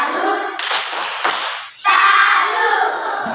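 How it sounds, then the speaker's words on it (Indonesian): Primary school children in an Indonesian classroom perform a rhythmic clapping cheer, loud close hand claps mixed with their shouted chanting voices. "Oke, tepuk salut untuk kelompok 5. Tepuk salut."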